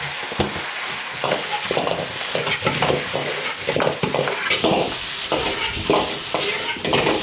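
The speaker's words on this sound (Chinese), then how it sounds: "把牛骨头稍微炒一下" Beef leg bones stir-fried in a large iron wok, a steady loud sizzle with repeated scraping and clattering strokes of the spatula throughout, no voices.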